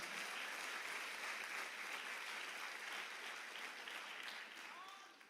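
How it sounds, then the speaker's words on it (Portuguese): Congregation applause at a women's church congress, a dense, even roar of clapping that holds steady and then tapers off at the end, with faint cheering voices underneath. "Aplauda o Senhor."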